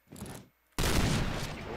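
Gunfire in the Point Blank online shooter: after a short burst and a brief silence, a loud, dense fusillade of rapid shots runs continuously to the end.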